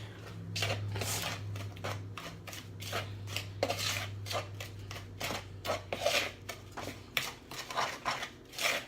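A spoon scrapes and stirs dry bath bomb ingredients in a bowl, giving a steady run of gritty, close scraping and tapping strokes over a low background hum, with no talking.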